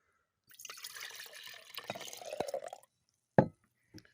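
Homemade milk, squeezed through muslin cloth, is poured into a jar, giving a close, steady liquid trickle for about two seconds, followed by two brief clinks of glass.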